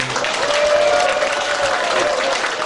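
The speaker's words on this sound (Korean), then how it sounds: "우리 후보께 큰 박수 한번 쳐주시죠" Steady applause from a crowd at a Korean election campaign office opening, loud and continuous throughout, with no speech over it.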